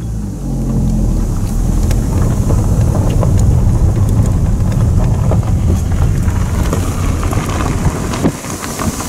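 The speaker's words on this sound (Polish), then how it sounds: "Wiatr nie za ciekawy" Strong, continuous wind buffeting the microphone with a heavy low rumble, alongside a steady outdoor wash that could be water or an engine, during a carp fishing session.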